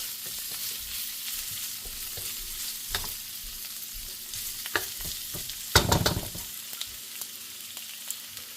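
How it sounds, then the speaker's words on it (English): Garlic sizzles in hot oil in a wok for stir-fried bok choy, with a soft steady crackle broken by scraping stirs and a louder burst of sizzling partway through. "We'll go in with our garlic. Give that a quick stir around, get some oil on it."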